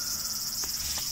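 Cicadas buzz continuously in the background of the video game Yuoni: Rises, a steady high-pitched drone with a couple of faint, brief clicks underneath.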